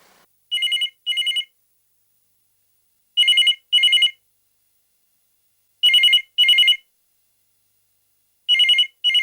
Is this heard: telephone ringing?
yes